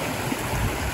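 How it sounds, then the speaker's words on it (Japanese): A clear river flows past a roadside rest stop, a steady close wash of rushing water with no voices over it. "なんか結構川が綺麗ですね。"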